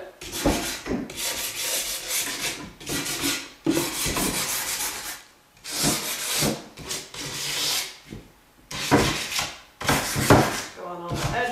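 Sandpaper rubs over the edges of a chalk-painted wooden drawer to distress it, repeated rasping strokes in bursts with short pauses, close and fairly loud.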